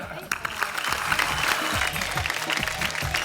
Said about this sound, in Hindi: 3, 2, 1, तालियां।